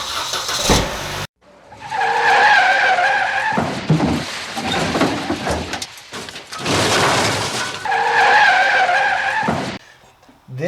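Car and van engines idle and move in and out of a garage, with tyres squealing on the garage floor in two loud bursts as each vehicle shifts, near and alone without talk.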